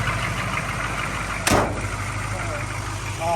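A 1982 Chevrolet K10 4x4 pickup's 6.2 diesel engine idles loudly and steadily throughout, with a brief sharp click or knock partway through.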